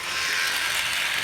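Dry, unoiled wheels of a Rivarossi New York Central model train coach spinning, a continuous fine rattling whir like a ratchet, close and steady.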